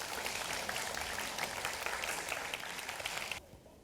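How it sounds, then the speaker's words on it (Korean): A large audience applauds at an award ceremony for a high school team competition final, a dense, steady wash of clapping that fills the hall and then cuts off abruptly near the end. "큰 박수 부탁드립니다."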